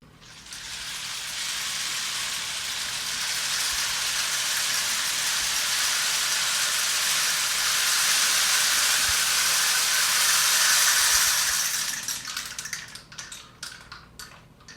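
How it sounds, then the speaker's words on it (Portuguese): A rain stick is tipped slowly, sending a steady, dense shower of pattering rattles like falling rain that sustains for about twelve seconds, then thins into scattered trickling clicks as it runs out. "Esse instrumento aqui é fantástico. O nome dele é pau de chuva."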